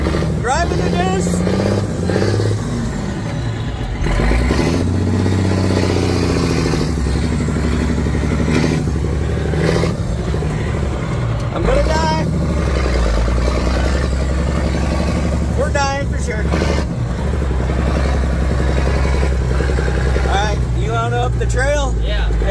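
A Deuce truck driven and downshifted along a trail, with a loud, continuous engine drone whose pitch rises and falls with rattling. Voices talk over the engine.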